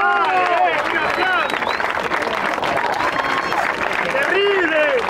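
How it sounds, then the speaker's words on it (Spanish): Crowd applause at a 2vs2 freestyle rap battle quarterfinal in Argentina, a dense steady roar of clapping and voices lasting throughout, with shouts and whistling rising over it near the end. "Un aplauso, un aplauso."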